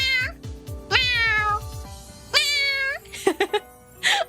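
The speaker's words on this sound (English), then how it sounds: "You woke up my cat." A house cat answers with several drawn-out meows in a row, close and clear, with short gaps between calls. A person's bark-like vocal sounds stand out near the start and end.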